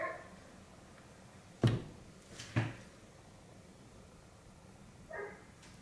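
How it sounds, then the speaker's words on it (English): A few muffled, distant dog barks ring out separately from outside, with quiet pauses between them and a fainter yelp near the end. "Apologize if you can hear my dogs barking."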